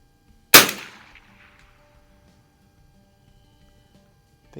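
A single sharp .22LR shot from a Noble model 33A pump-action rifle, close and loud, with a short decaying tail followed by quiet.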